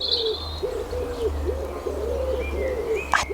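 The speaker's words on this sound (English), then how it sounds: "But can you hear the birds?" Birds call outdoors: a dove coos in a repeated low rhythm while higher chirps and tweets break in now and then.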